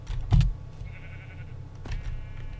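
A sheep bleats in the video game Minecraft, one loud short bleat followed by a second fainter one, with no voices over it.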